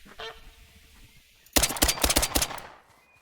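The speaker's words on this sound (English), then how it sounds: "Those are gonna be our gray-lag goose." Greylag geese honk in the hunting game theHunter: Call of the Wild, set in Nepal. A rapid, loud cluster of overlapping honks bursts out after a quiet stretch, then breaks off abruptly.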